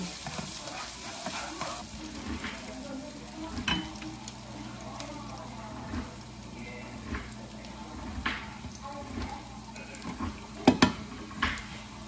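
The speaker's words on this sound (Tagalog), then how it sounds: "luto tayo ng pansit. Nagigisa na ako." Garlic and onion sautéing in a pan for Filipino pancit, a steady low sizzle with intermittent stirring scrapes and a few sharper utensil knocks near the end.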